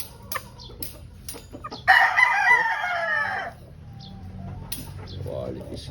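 A pure white Kelso gamefowl rooster crows once, loud and near, amid scattered clucks and farmyard clicks, with someone talking softly before and after.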